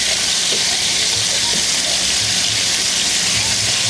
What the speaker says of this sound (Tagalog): Mainit na ang kawali. Ilagay natin itong manok.